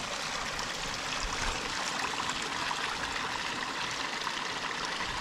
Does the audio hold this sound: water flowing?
yes